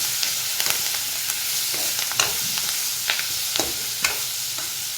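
Dried fish and green chilies frying in a pan, a steady close sizzle with scattered stirring scrapes and small pops throughout.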